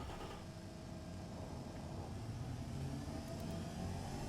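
A virtual 1986 Edison Satellite car from the game Automation roars around a test track. Its engine drones loudly and steadily with a dense, rumbling tone, and no one talks.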